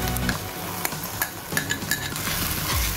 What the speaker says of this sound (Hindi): इसे भी चलाते हुए दो से तीन मिनट तक धीमी धीमी आंच पर भून लेंगे